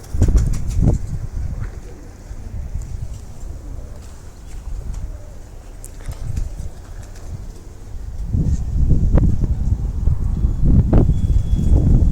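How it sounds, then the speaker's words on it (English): A young Basra pigeon, hatched in 2015, is tossed outdoors and beats its wings in repeated bursts of flapping, loud and close in wind and open air. "Throw out this young bird I got."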